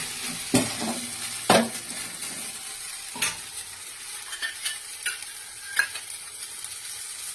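Uttapam batter sizzles and fries in a pan with a soft continuous hiss, punctuated by several sharp clinks and scrapes of a utensil against the pan.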